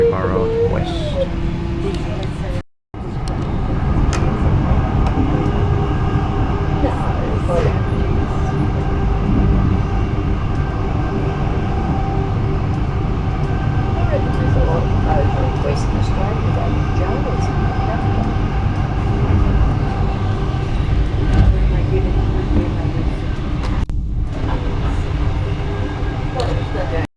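Interior rumble of a Queensland Tilt Train tilting passenger train riding along the line, a steady loud broadband roar with rail hum that persists throughout, briefly dropping out once near the start.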